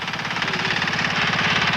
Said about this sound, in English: It needs 2 men to work it and pulls them to the site on its tiny 7-horsepower motor